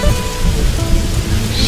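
Rain falling steadily and heavily, a dense close patter with a low rumbling undertone, continuous throughout.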